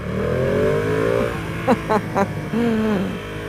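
A 2020 Ducati Panigale V2 sport motorcycle engine with stock exhaust idles, then blips the throttle in three sharp revs before settling and revving again, loud and close.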